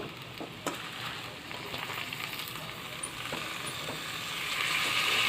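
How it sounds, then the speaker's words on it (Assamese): Pork sizzles steadily in a pan on a gas flame as mallow leaves and other greens are added, giving a constant close frying hiss with a few small clinks and no talk. "এতিয়া আমি মাংসখিনি হোৱাৰ পিছত লফা আৰু শাক আৰু থনথনি শাকখিনি দি দিওঁ।"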